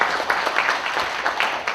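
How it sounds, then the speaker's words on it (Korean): A brief burst of audience applause for five presenters at a public forum on city parks: dense, close clapping that holds at an even level throughout. "우리 그동안 여러분 질문에 대한 답변을 주신 5분의 발제자에게 박수 한번 주시기 바랍니다"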